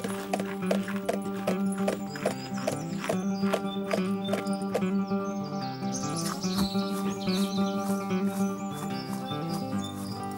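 Horse hooves clip-clopping in a steady, regular rhythm, with bird chirps and music-like tones layered over them throughout.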